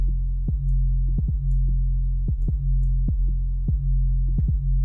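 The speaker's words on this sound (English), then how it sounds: "It sounds super over compressed." Heavily over-compressed music track mastered with the Maximus plugin in FL Studio: a dense, pumping low-end drone with sharp kick-like hits recurring every half second or so, loud and flat throughout, no voice.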